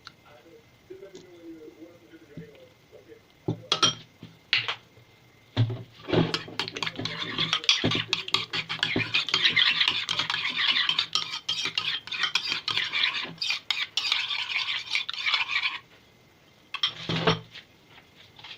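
Ketchup being stirred into a sauce in a bowl, with rapid clicking and scraping of a utensil against the dish, loud and busy in bursts with brief pauses, after a quiet start with a faint voice.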